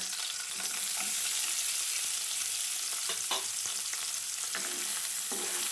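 A base fries lightly in a pan before onions go in, for a high-protein vegetable side dish. A faint, steady sizzle runs throughout, with a few soft stirring scrapes and no talking.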